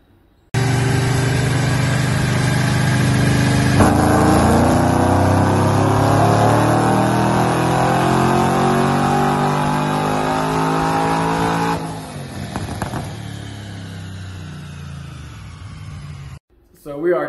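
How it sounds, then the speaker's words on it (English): A Pontiac G8 with Kooks headers and a cam roars through a dyno pull, the engine note climbing steadily in pitch under full throttle for about eleven seconds before easing off and cutting out; loud and close. "We're gonna do a couple more pulls and see if we can't get a little more out of it."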